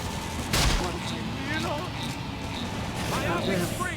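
A Speed Barrage attack in the video game Xenoblade Chronicles X: Definitive Edition, rapid gunfire-like bursts with a sharp hit early on, mixed with whooshing effects and a voice talking over it.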